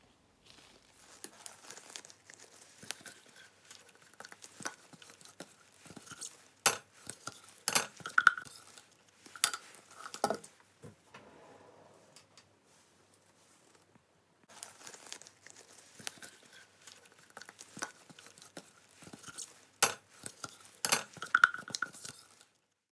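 Home-made fermented chilli sauce being pushed through a sieve, with scraping, clinking and crinkly rubbing of utensil against mesh and bowl in two busy stretches separated by a short quiet pause.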